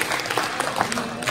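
Audience applause at a national railway contractors' meet, a brief dense patter of many hands clapping at steady volume with faint voices mixed in.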